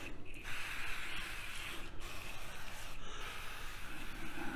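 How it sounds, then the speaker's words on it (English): An aerosol can of duck fat sprays onto a turkey in a few hissing bursts separated by short pauses, close and steady with no talking. "So I'm gonna go ahead and just spray a little bit of that on there."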